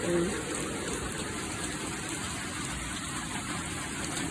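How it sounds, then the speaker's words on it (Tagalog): Steady rain pours down in a dense, even hiss, with a faint high whine running through it. "Guys, nag-ulan na guys. Pasok kay ulan."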